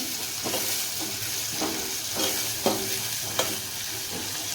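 Onions frying in a pan with a steady crackling sizzle, interrupted every second or so by the scrape of a spoon stirring them, close and moderately loud.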